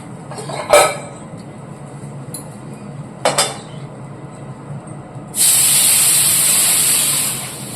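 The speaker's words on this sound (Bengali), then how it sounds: "আজ মাছ ভাজা হবে" Fish frying in hot oil in a home kitchen gives a sustained loud hissing sizzle that starts partway through, after a couple of brief clanks of utensils against a pan.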